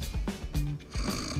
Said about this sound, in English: You're snoring